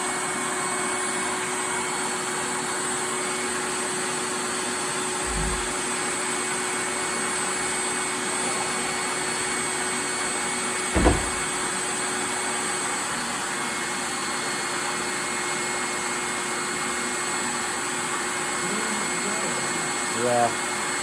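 A vacuum cleaner runs steadily while a carpet seam is cleaned, a constant close whirring drone throughout, with a couple of brief thumps in the middle.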